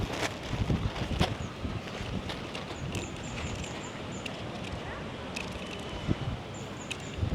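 Gusty, shifting wind buffets the microphone on Jomtien Beach in Pattaya, a steady rushing roar with sharper thumping bursts throughout.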